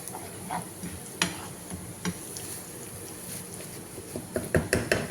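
Half a teaspoon of fenugreek goes into a hot pan of oil while tomato pickle is being made, producing a steady close sizzle with scattered ticks and scrapes of stirring.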